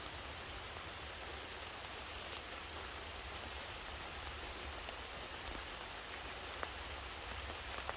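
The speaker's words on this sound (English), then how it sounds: "we've got some more heavy rain falling" Heavy rain falls steadily through a wood, a dense, even hiss of drops striking leaves and the ground all around, with no break in its loudness and no voices.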